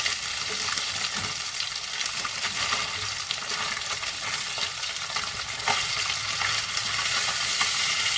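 Marinated fish pieces fry in a pan over medium flame, a steady dense sizzle with soft scraping as the pieces are turned, continuous and close with no talking.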